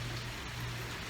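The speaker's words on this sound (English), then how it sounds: "The rain is also picking up." Rain falls steadily during Hurricane Dorian, a dense, even hiss of drops with a low hum beneath, continuous and moderately loud for a brief moment.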